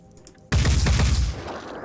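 A sudden loud burst of gunfire erupts in the turn-based shooter Phoenix Point, a dense cluster of shots and blasts that fades into a rumbling tail.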